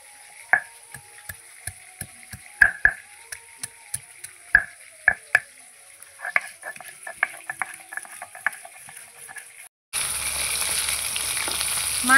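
Fried katla fish being lifted out of a pan of oil, with sharp scattered clinks and taps of a utensil over a low background sizzle, then a sudden loud steady hiss of frying near the end.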